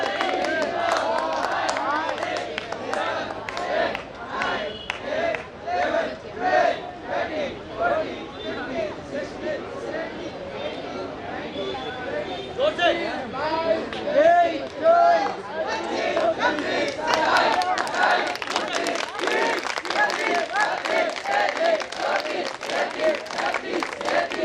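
Students at a school career fair event break into applause, a crowd clapping in uneven bursts with background chatter and voices mixed in throughout.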